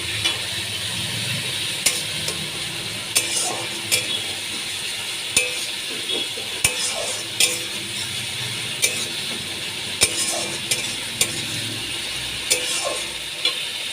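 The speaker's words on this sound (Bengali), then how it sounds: "হলুদ দিয়ে ভালো করে মিশিয়ে নিচ্ছি" Turmeric is stirred into a Fasha fish curry frying in a pan. A steady sizzle runs underneath while the spoon scrapes and clicks against the pan at an even pace. No one talks.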